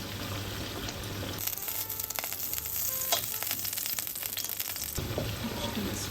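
Ghee melting in a hot pan for a mushroom sauce gives a soft, steady frying sizzle, close and quiet, rising briefly in the middle with faint crackles and no talking.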